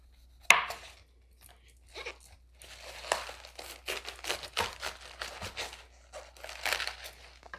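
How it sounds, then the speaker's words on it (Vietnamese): A large, mature mustard green plant is cut into four pieces with a knife, giving a run of crisp chopping and crunching strokes, close and moderately loud, with no talking. "Còn cái cây này bự quá thì mình cắt ra làm 4."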